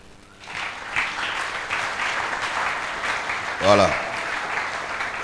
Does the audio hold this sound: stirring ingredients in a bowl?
no